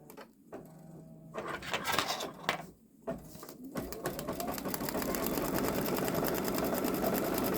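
A Babylock Solaris Vision embroidery machine stitches out a Ninjago design onto a boy's long-sleeve garment, producing a steady, fast mechanical chatter that starts in bursts with short pauses and then settles into a continuous, close, even run.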